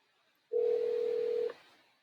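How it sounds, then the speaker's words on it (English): A steady telephone tone sounds while a call to a voice assistant is being dialed, one continuous beep of about a second, clear and alone, starting abruptly and trailing off afterward. "So let me dial in."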